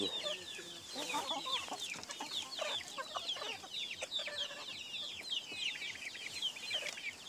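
Chickens cluck steadily in a busy farmyard, with several birds calling over one another at moderate distance and no talking.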